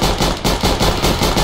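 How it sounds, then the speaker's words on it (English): Rapid gunfire from a suppressed pistol in a multiplayer shooter, a close, loud string of evenly spaced shots, about seven, with no talking over them. "Okay, I shot at him."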